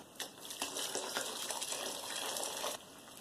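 Sparge water pours steadily into a home-brew grain mash, a continuous splashing gush that runs for a few seconds with small clinks at the start, then cuts off abruptly near the end.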